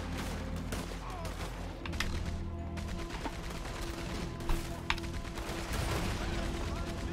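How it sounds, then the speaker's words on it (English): Machine gun fire in Red Dead Redemption 2 rattles in dense, rapid volleys throughout, with a couple of sharper single shots and some low voices in the background. "Oh, I love using machine guns."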